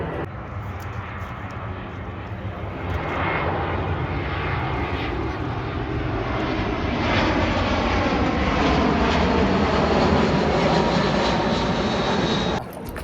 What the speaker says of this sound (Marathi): हा विमान आलाय